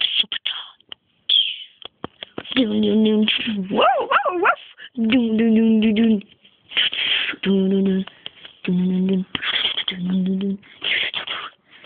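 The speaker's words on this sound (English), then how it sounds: "Bo, the super dog." A dog in a TV comedy skit, billed as a super dog, gives repeated whimpers and yips in close, loud bursts separated by short pauses, with people talking around it.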